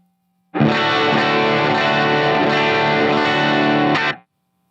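A sustained, heavily overdriven electric guitar chord rings out loud and thick, then cuts off abruptly after a few seconds.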